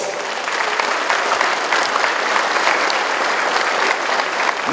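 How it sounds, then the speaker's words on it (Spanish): Sustained, dense applause from a large crowd at the opening ceremony of a regional Mixe sports championship, steady and loud throughout. "¡Y venga los aplausos!"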